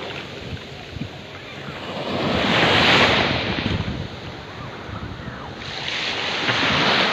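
Sea waves break and wash up on a beach at Saysayin, Bagac, Bataan, a steady roar of surf that swells into louder surges, with wind buffeting the microphone.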